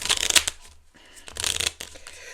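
A deck of tarot cards is shuffled up close in two quick bursts of crisp riffling and flicking, separated by a short pause, with no talking.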